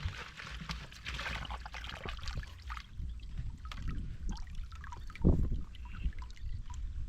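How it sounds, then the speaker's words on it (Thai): Clean water flowing out of the forest into a pond, a steady broadband trickle and rush running the whole time with a brief louder splash partway through, heard close by with no talking. "ดู น้ำไหลจากป่าเลยทุกคนเนาะน้ำบ่อที่สะอาดเนาะ"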